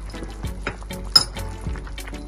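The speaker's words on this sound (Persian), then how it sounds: "یک مقدار کم زعفران رو آب کرده اضافه میکنم برای بیشتر خوش عطر و طعم شدنش." Saffron dissolved in water is poured into a Persian celery stew with mint and parsley, making a soft, quiet trickle with small splashes and one brief clink near the middle.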